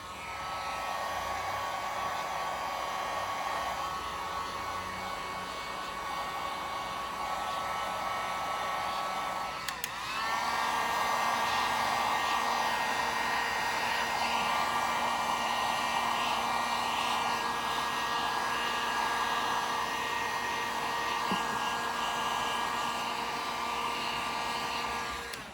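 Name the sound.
heat gun drying a clear paint layer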